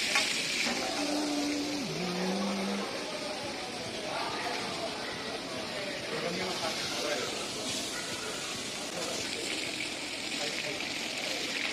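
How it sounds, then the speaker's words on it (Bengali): Hilsa fish fries in a pan at a riverside Mawa Ghat eatery, giving a continuous broad hiss and sizzle over crowd murmur, with a brief whistle-like tone early on. "মাছ ভাজি প্রায় শেষ পর্যায়ে চলে এসেছে"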